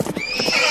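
A cartoon horse gives a short bright neigh that rises into a whinny, with a few quick hoof clip-clops at the start, loud and close.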